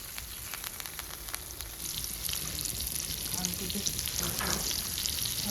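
Fish fries in hot oil with garlic and curry leaves over a wood-fired clay stove, a dense close sizzle with popping bubbles that grows louder midway, running on its own.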